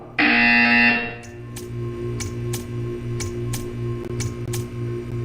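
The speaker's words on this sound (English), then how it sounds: "You will hear a buzzer." A loud, harsh buzzer from the video game Portal 2 blares for about a second, followed by a steady series of regular ticking clicks over a low hum.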